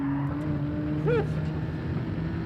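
A steady race car engine drone hums throughout as cars overtake in the video game Gran Turismo 7, with a brief voice rising over the engine note midway.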